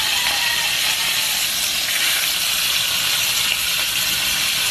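Steady, dense sizzling hiss of lapu-lapu (grouper) fish frying in hot oil, constant and close, with no voices.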